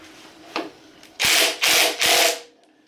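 A few faint clicks, then three loud, rasping bursts of a ratchet being cranked in quick succession on a 14mm puller tool bolt, close by, with no talking.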